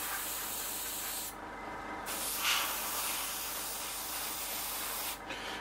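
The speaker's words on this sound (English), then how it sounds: "make sure you spray down the leading edge of the wing there" Steady airbrush hiss sprays paint on a Seafire XV scale model continuously at close range, with a couple of brief pauses and no talking.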